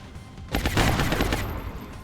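A single sharp gunshot in XCOM: Long War, bursting out loudly after a quiet moment and trailing off in a short rumble.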